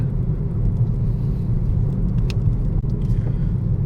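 Cars drive past on a busy rural road in Khukhan district, Sisaket, Thailand: a continuous, close, loud low rumble of engines and tyres with no clear gaps.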